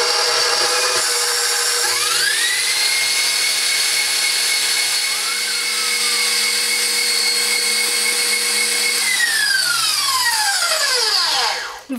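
An electric mixer whips egg whites into stiff peaks for a cake, making a loud, steady motor whine that rises in pitch as it speeds up, holds for several seconds, then winds down near the end.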